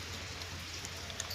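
Monsoon rain falls outdoors in farm country with a steady, even hiss, and a few distinct drops tap out above it.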